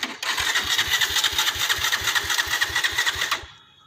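A cold motorcycle engine cranks and catches on a morning start, sputtering in rapid low thumps for a few seconds before cutting out abruptly.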